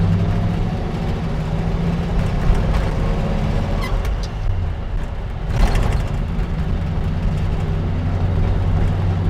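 A 1950 Ford F1 pickup driving in second gear on a course, a steady loud low engine drone with road noise from inside the cab.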